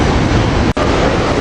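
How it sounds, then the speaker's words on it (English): A SEPTA airport line train pulling into 30th Street Station in Philadelphia makes a loud, close, continuous rumble and roar with a momentary dropout midway. "Here we got the airport train coming in to 30th Street Station here"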